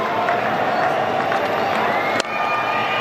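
Cricket crowd at an England versus Sri Lanka Champions Trophy match, broad cheering and applause rolling steadily at a distance, with a sharp clap or thud near the end.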